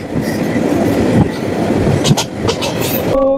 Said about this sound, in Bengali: চাঁদপুরগামী ট্রেনটি চলেই আসলো।